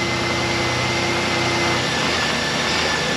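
A GM 3.8L 3800 Series II V6 idles after a lower intake manifold repair, a steady, even low hum with a faint constant whine running throughout, no voices.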